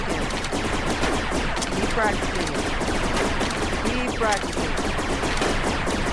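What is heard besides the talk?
laser tag gun shots in Rec Room video game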